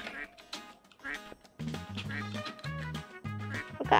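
Duck quacking in a Roblox video game where the player is a bird: a quick series of nasal quacks with bouncy game music and chimes beneath, fairly loud and close.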